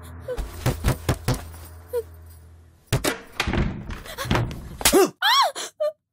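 At a house door, several sharp knocks sound in a rapid series, then come a pause, thuds and a handle or latch as the door opens, and then brief voices and a wavering sound.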